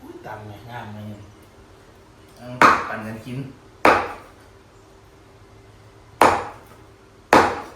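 A knife chops liver on a board for Thai larb, with four loud, separate thuds spaced a second or more apart, and someone talking before the chopping.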